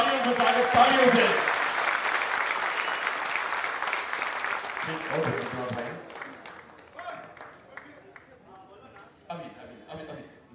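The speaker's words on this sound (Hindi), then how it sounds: "तालियों से स्वागत, तालियों से स्वागत," Audience applause greeting a speaker at a Jan Suraaj workshop in Bihar, loud and dense at first, then thinning out after about six seconds as scattered claps and chuckles linger and a few voices talk over the fading end.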